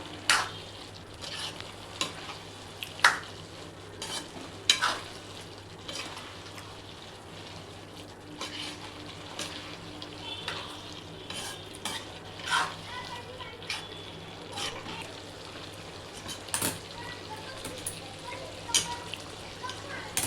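Chicken keema with salt being mixed in a pan, giving a low sizzle with irregular scraping and tapping stirs at close range, plus a faint watery hiss in the background.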